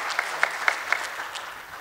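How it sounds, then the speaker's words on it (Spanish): An audience applauds at a 38th anniversary event at the Casa de Fundación Mediterránea, a short burst of clapping with a few sharp, regular claps standing out over the wash of hands. "El aplauso y la foto para el recuerdo en la Casa de Fundación Mediterránea."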